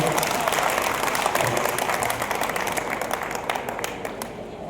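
Audience applause at a live Hindi comic poetry recital for Mahaveer Jayanti, a dense, steady wash of many hands clapping that fades slightly toward the end, with faint voices mixed in.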